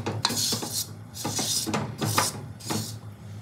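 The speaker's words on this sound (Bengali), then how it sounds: "এটাতে আমি এই যে একটু তেল মাখিয়ে নিচ্ছি" Oil is rubbed onto a new unglazed clay cooking pot set over a gas flame, giving four rhythmic scratchy rasping strokes spaced about a second apart, close and moderately quiet.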